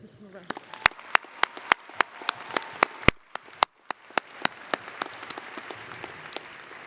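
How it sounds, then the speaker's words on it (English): Scattered sharp claps build into steady applause from a crowd at a university commencement ceremony in an arena, with a short dip midway before clapping resumes. "give a round of applause to thank the family and friends who are here to support you"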